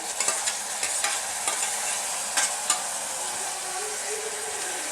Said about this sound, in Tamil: தக்காளியை நல்லா வதக்கி விட்டுடலாம்